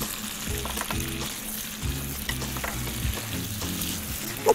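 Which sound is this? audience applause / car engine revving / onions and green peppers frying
onions and green peppers frying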